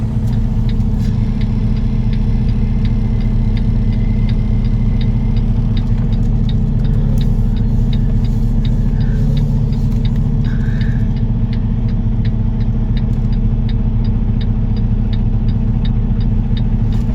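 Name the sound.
semi truck engine backing under a trailer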